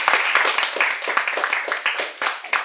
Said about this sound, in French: Merci pour vos applaudissements